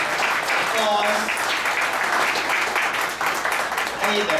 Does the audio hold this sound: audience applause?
yes